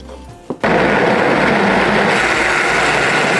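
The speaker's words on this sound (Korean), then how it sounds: "양파, 생강 이렇게 준비했어요. 잘게 잘라서 갈아주세요." A blender grinding chopped onion and ginger, starting abruptly after a brief click and running as a loud, close, steady whirring roar to the end.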